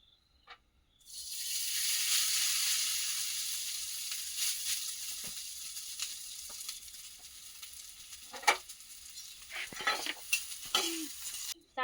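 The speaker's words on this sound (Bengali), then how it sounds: "তেল তো গরম হয়ে গেছে চাউমিনটা এবার ভেজে নেবো" Chow mein noodles dropped into hot white oil burst into a loud sizzle that gradually settles into a softer hiss, followed by scattered clacks and scrapes of stirring near the end.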